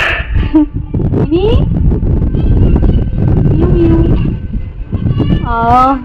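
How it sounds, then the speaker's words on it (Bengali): A cat meows a couple of times, with a person talking close by through most of it. "মিনি মিনি মিয়াও মিয়াও, তুমি কোথায় গেছিলে?"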